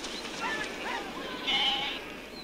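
Sheep bleat repeatedly on a Kazakh pasture, several overlapping calls of medium loudness with one louder, sustained bleat near the end over a steady outdoor background hiss.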